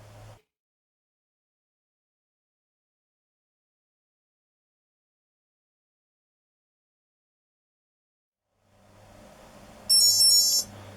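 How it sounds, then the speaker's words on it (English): Near silence for several seconds, then a faint hum rises and a short burst of high electronic beeps sounds at the end: a Garmin Edge bike GPS turn alert. "so we get a couple of beeps, we get a turn alert popping up"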